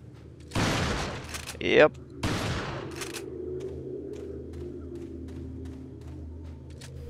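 Shotgun blasts from the video game Resident Evil 4: two loud, booming reports about a second apart, followed by a fading rumble and a quiet hum, with a brief spoken word between.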